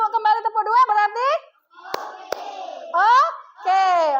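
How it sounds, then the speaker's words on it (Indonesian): Children in an Indonesian classroom clap their hands in counted patterns, with groups of two and three claps ringing out as sharp bursts among an adult's and children's chanted speech. "tepuk 2, tepuk 3, tepuk 2."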